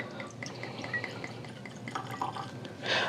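Bourbon whiskey, a bottled-in-bond 100-proof high-rye, is poured into a glass, heard as quiet trickles and drips with small glassy clinks and a brighter splash near the end, close and faint.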